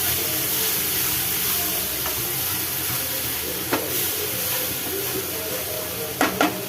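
Steady frying sizzle of spinach paste sautéing in a pan, with a few sharp clinks of a utensil near the end, no voices.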